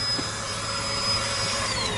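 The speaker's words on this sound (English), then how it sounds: "And things to do while you're charging your car, a bit of hoovering." A vacuum cleaner hoovers a car interior while the car is plugged in charging at a Tesla charger, a steady, loud, close whine with a high tonal motor pitch that drifts slightly near the end.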